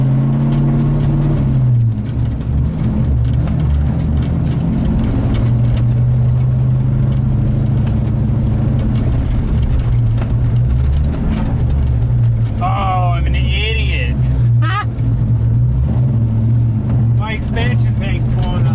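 Mazda Miata LS engine running steadily as the car drives, a continuous low drone with mild changes in revs, while a person talks over it in places.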